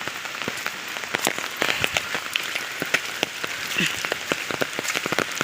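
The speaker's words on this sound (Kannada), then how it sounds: "ಮಳೆ ಬರ್ತಾ ಇದೆ" Steady rain patters on a surface with scattered close drips and taps, continuous and moderately loud, no voices.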